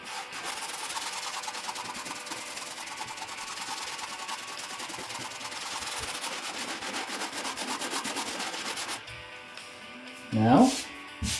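Light hand sanding over a drywall patch makes a steady, close, gritty scratching that runs continuously for several seconds, then stops, and a brief voice follows.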